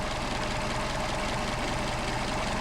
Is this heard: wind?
no